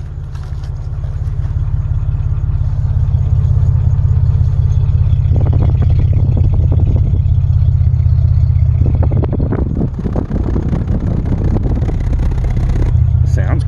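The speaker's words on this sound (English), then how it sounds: "Idle's nice and slow." A Dodge Nitro 4.0 engine idling slowly, a steady low rumble close by throughout, while a person talks over it in bursts.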